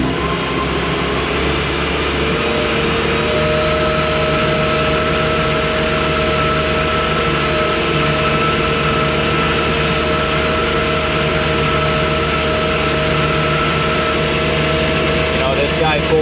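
A Buffalo Turbine debris blower running on a sidewalk, giving a loud, steady engine roar with a constant tonal whine and no break throughout.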